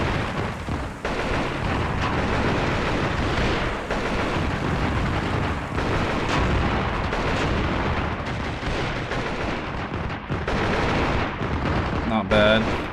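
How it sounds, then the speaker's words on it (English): Mortar barrages and explosions in the war game Armored Brigade II, a dense, continuous rumble of booming detonations and gunfire lasting throughout, loud and layered with no clear gaps. "Now let's shift our mortars. Fire at these guys."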